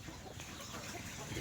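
Chickens on a Filipino backyard farm clucking softly and steadily, a low continuous flock murmur close by with no one speaking.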